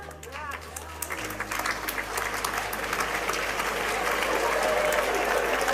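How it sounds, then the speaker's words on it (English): A crowd at a graduation ceremony breaks into sustained applause that builds and grows louder, following brief speech at the start. "Parents are applauding"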